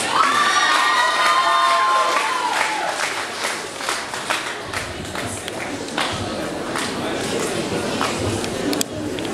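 A beauty pageant final crowd bursts into loud cheering and applause, with high shouts and whoops over dense clapping, and voices call out throughout.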